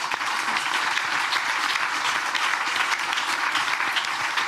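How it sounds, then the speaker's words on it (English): An audience applauds steadily, a dense continuous wash of clapping that holds at an even level for the whole stretch. "I think that's a very good statement for a round of applause."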